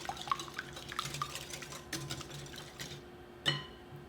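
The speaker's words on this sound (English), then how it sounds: "Whisk this up." A whisk clinks and scrapes against a bowl while buttermilk batter for an apple streusel coffee cake is mixed, giving a quick run of light, close taps followed by a sharper knock near the end.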